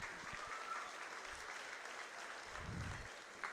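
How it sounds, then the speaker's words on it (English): Audience applause at a 4-H goat show at a county fair honors a group of beginner showmen, a steady patter of clapping from a moderately distant crowd lasting the whole stretch. "let's get a round of applause for another really good group of beginners."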